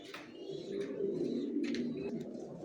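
A male racer pigeon coos close by, giving low, throaty, rolling coos repeated over a few seconds.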